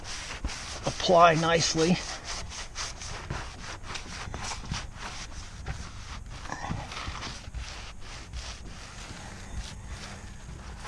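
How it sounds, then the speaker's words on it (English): Soft sanding block rubbed by hand over a Thunderbird tri-hull boat, knocking the sheen off a coat of finish: steady, close scraping strokes in a repeating rhythm, with a brief voice near the start. "using the sanding block, the soft sanding block"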